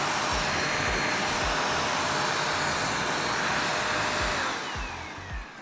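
Hoover Ultra Vortex mattress vacuum cleaner running steadily, a loud continuous motor whine and rushing airflow close by, easing off slightly near the end.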